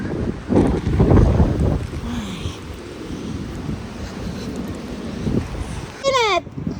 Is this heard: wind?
yes